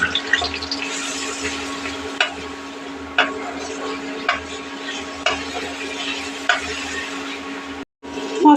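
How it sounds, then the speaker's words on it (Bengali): Spices frying in oil in a pan with onion, tomato and green chillies, a continuous sizzle broken by repeated sharp stirring scrapes at roughly one-second intervals. "এবার মশলাগুলি দিয়ে দেবো, দিয়ে ভালো করে ভেজে নেব।"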